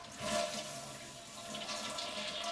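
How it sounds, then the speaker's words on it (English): A household toilet flushes with its lever held down, a steady rushing gush of draining water that swells early and keeps running strongly to the end with no voices. "First thing we do is flush."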